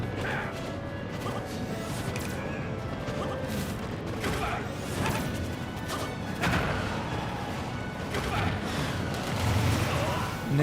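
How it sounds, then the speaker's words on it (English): A video-game explosion bursts amid a busy, noisy mix during a competitive fighting-game match at a school esports event, with live commentary talking over the action. "Just caught that explosion."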